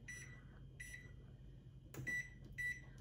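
A microwave oven gives several short electronic beeps as its timer is set, four spaced chirps over a quiet kitchen hum.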